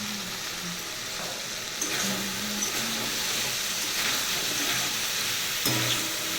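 Tomatoes frying with salt in a hot pan give a steady broadband sizzle close by, with a few brief scraping stir sounds and clicks rising over the crackle.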